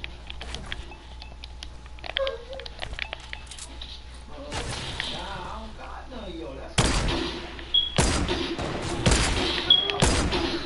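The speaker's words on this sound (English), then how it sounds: "stop shooting my buildings down, man" Video game gunfire aimed at buildings during a PS4 session, with scattered shots early and heavier loud bursts and impacts in the second half amid background game noise.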